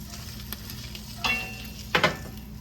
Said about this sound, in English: All you gotta do is roll it in flour and fry it.